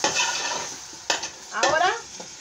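Meat for Cuban ajiaco sautés in a pot with a quiet sizzle, while a spoon stirs and scrapes in a few short bursts. The sound is close and fairly faint, and no one speaks.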